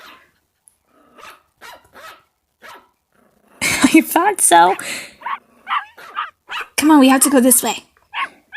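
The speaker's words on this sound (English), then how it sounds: "Want to play with some puppies and doggies?" Dogs and puppies bark and yip in short, sharp bursts, some close and loud, mixed among a woman's spoken lines, with a dense cluster of barking and growly yelps in the middle and near the end.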